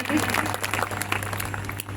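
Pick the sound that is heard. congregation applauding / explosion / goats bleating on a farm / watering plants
congregation applauding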